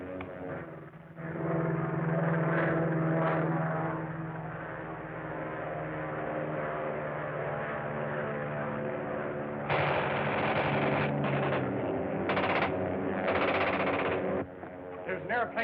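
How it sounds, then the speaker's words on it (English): An old-serial airplane drones loudly overhead while bursts of machine-gun fire rattle in, the engine roar steady beneath the rapid gunfire. "There's an airplane with a machine gun attacking us, sir."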